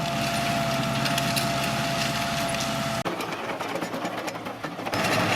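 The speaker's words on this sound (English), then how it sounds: "he ran the tiller over the bed a time or two to pulverize the dirt" A small garden tiller engine runs steadily while working over a dirt bed on a small farm, a loud continuous mechanical drone that shifts and drops in tone partway through as the load changes.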